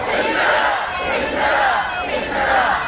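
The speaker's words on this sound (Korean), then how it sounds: "여러분의 함성이 용산에서 분명히 들릴 것입니다" A large crowd shouts slogans together at a nighttime candlelight democracy rally in Korea, a loud, continuous roar of massed voices rising and falling in waves throughout.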